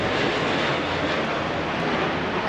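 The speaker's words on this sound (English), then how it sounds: "2 more transport aircraft coming over now. 1 big, 1 small. The smaller one is a BAE 146." Transport aircraft, one of them a BAE 146, passing overhead at an RAF centenary flypast, a loud continuous broadband engine roar holding steady throughout.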